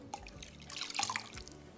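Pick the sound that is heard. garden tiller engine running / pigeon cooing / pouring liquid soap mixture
pouring liquid soap mixture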